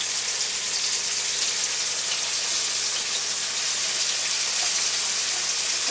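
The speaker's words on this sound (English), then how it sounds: "I probably should only try to fry 2 pieces at a time." Country fried steak sizzles steadily in a hot pan on a stovetop, a continuous crackling hiss with fine popping spatter and no pauses, close and fairly loud throughout.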